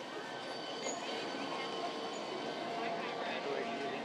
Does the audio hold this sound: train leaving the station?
yes